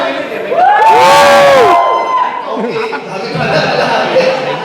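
A large crowd at a motorcycle club meetup cheers and shouts together, with loud rising yells up front and a steady roar of voices continuing behind.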